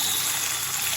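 Hot water runs hard from a household tap fed by a new boiler at good pressure, a loud steady gush close by with no talk.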